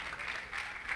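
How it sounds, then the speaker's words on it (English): Audience applause at a college leadership symposium, a steady wash of many hands clapping at moderate level for about a second, without pauses and with no voices over it. "So let's give a round of applause"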